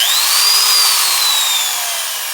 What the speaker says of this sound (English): So I'm drilling with this one.